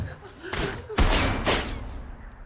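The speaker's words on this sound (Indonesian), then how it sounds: "si botak pun memerintahkan anak buahnya untuk menembakkan beberapa peluru di sudut-sudut kontainer" Gunshots fired into the corners of a shipping container in a film scene, a few loud close blasts ringing out in quick succession and then dying away.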